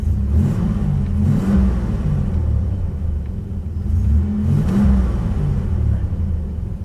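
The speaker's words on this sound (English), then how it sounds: "It's idling very well." A 1987 Buick Grand National with a suspected failing catalytic converter runs with a loud, close, low rumble that rises and falls in slow surges, like light revving over a steady idle, with no voices.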